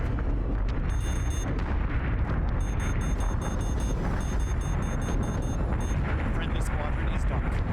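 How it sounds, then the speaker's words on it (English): Incoming missiles exploding during a Battlestar Galactica: Deadlock space battle, a dense roar of blasts and rumbling detonations with rapid clicking bursts on top, constant and loud, with voices mixed in. "Missiles incoming."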